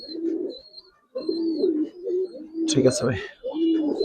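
Giribaz pigeons coo in low, throaty, repeated rolls, close and steady through the clip, while someone speaks briefly partway through and a faint high whistle sounds in the background.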